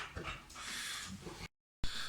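A lively dog pants and lets out soft whimpers in close, brief bursts, with a short silent gap before the panting resumes.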